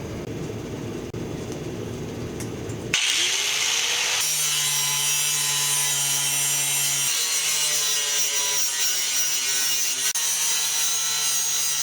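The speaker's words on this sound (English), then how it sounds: "get your angle grinder with the cutoff wheel and go to town on it" An angle grinder with a cutoff wheel spins up after a few seconds of quieter noise and cuts a tomahawk form, a loud, sustained high whine with grinding that shifts in pitch as the wheel bites.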